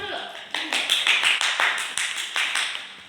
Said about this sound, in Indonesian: Ibu harapkan, tepuk tangan dulu.